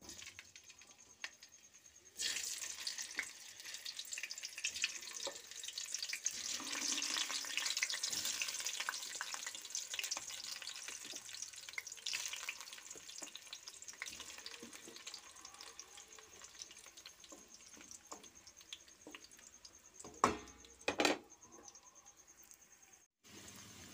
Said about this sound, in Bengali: আমি কড়াইতে তেল দিয়ে দিয়েছি, তেলটা গরম হয়ে এসেছে। এবার আলুগুলো ভেজে নেব।